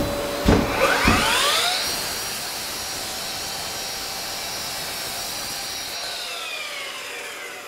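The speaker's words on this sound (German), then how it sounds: "nochmal so eine kleine Leiste, die ich absäge." A Bosch Professional 18V cordless saw cuts through a small wooden strip, starting with a few sharp bites into the wood, then settling into a steady, loud whine as the blade runs freely with no dust extraction attached.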